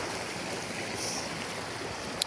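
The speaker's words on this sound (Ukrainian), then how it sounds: "Ну диви, який класний водоспад." A waterfall on a winter outing in Slovakia: a steady, dense rush of falling water, loud and constant throughout.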